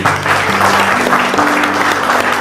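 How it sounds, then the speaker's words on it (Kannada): Audience applause at a farewell ceremony in Dubai, a dense, steady wash of many hands clapping throughout, fairly loud and close, with a faint low tonal hum underneath. "ಇಂತಹ ಚಪ್ಪಾಳೆ ಸಿಗ್ತಾ ಉಂಟು ನಿಮಗೆ"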